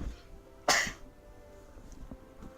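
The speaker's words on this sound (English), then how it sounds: "Sorry, I had to sneeze." A single sharp sneeze bursts out loudly and close, then fades, followed by quiet room tone and a few faint clicks.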